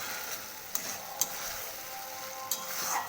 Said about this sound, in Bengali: ঢাকাটা খুলে এবার মশলাটা একটু নাড়িয়ে নেব।